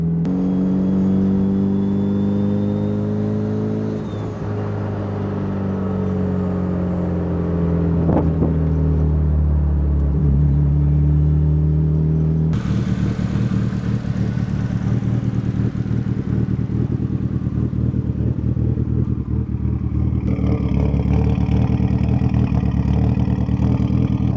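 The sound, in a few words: car engine during vacuum pulls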